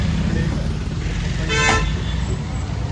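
A brief car horn toot sounds amid steady road traffic noise, with people talking in the background.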